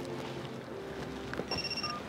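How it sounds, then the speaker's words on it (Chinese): A telephone rings in an indoor drama scene: a short electronic ring bursts out near the end, heard over a low room hum with no voices. "接电话吧，谁呀那么顽强？"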